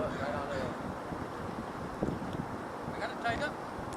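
Wind rushes across the Duwamish River around a kayak, a steady broadband roar with gusty swells and a few faint, indistinct voices in the background.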